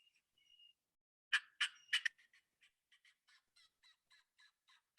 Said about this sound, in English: So here we are in public and just listen to Butski hammering these turkeys